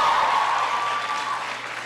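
An indoor audience claps for the mayor, Muriel Bowser, at a presidential education event, a dense, fairly loud wash of applause that tapers slightly over a couple of seconds.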